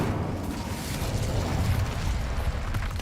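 The Incendio fire spell cast in Hogwarts Legacy: a dense, roaring burst of flame with crackling and rumbling that holds steady and moderately loud throughout, with no talking.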